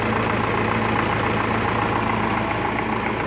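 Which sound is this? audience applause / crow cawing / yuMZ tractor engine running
yuMZ tractor engine running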